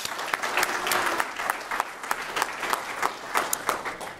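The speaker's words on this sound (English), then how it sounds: "Round of applause." A modest crowd claps at the close of a conference day, the applause fairly quiet and a little distant, with distinct individual claps popping out of the steady patter.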